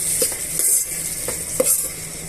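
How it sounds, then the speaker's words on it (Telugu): Sliced onions and green chillies fry in oil on high heat for mutton biryani, a bright close sizzle punctuated by a few metal spoon taps and stirring strokes. "ఉల్లిపాయలని పచ్చిమిరపకాయని బాగా వేగనివ్వాలండి"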